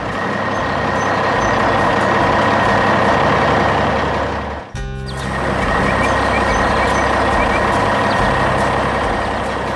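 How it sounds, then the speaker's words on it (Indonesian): A red truck and an orange construction machine work nearby, a loud steady engine drone with a continuous high reversing-beep tone running throughout, briefly interrupted by a dip midway. "Tiba-tiba, truk merah dan mesin konstruksi oranye muncul di sini"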